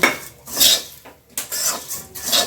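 Puffed rice (muri) is stirred in a pan in uneven bursts of scraping and clinking against the metal, with short pauses between strokes and no talking.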